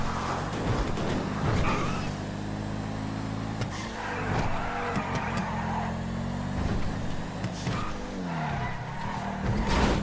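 A racing car engine whines at high revs with repeated tire squeals and skids, loud and continuous, as in a driving game.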